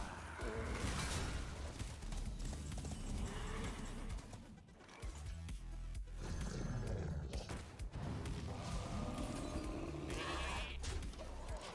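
A sheep bleats in a Hearthstone Arena card game, rising out of dense game effects and music that fill the whole stretch.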